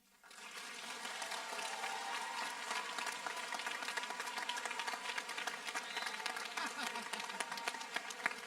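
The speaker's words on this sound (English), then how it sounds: "One more round of applause for Lucas" Graduation audience at the Cab Calloway School 8th grade moving-up ceremony breaks into steady, dense applause from a large crowd, rising quickly and sustained evenly throughout at a moderate distance.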